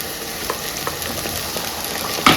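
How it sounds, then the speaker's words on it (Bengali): Steady oil sizzle from a pan of frying onions and spices for duck curry, with soft scraping stirs at intervals and a louder clatter near the end. "পেঁয়াজটা ভাজা হয়ে গেছে এবার আমি এর মধ্যে দিয়ে দেবো মশলাগুলো"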